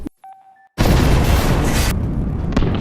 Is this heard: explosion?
yes